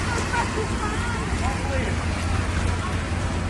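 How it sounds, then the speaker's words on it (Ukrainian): Heavy city downpour after a spell of heat, a dense, steady roar of rain hitting surfaces, loud and continuous throughout with a faint murmur of voices in the background. "Після спеки знову потужна злива."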